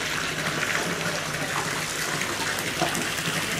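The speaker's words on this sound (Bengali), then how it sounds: "গাজীপুরের হাউসে পানি ভরার কাজ চলছে" Water gushes and swirls as it loads into a RAS fish-farming tank in Gazipur, a steady, close, rushing wash with no talking.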